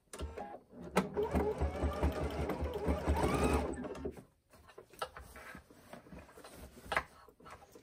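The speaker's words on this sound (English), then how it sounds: "You can sew with your needle down, and that helps keep your basket in place while you're attaching." A sewing machine stitches bias binding onto a fabric basket base, a close, loud, steady whirring run lasting several seconds before it stops, followed by quieter handling and fabric shuffling.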